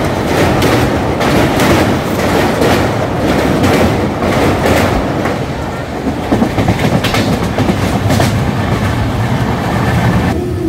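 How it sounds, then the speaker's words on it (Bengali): A passenger train pulls into Jajpur Keonjhar Road station on the Kolkata to Bhubaneswar line, with steady, loud rumbling and rhythmic clickety-clack of wheels over rail joints heard from aboard, continuous throughout with no talk. "আমাদের ট্রেন এখন প্রবেশ করলো জাজপুর কেওনঝড় রোড স্টেশনে"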